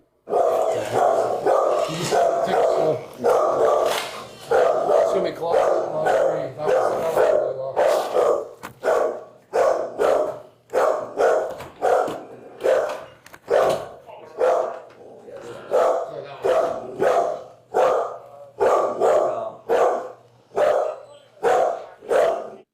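A dog barks loudly and close by, a long run of sharp, repeated barks in a steady rhythm with brief gaps, continuing for over twenty seconds.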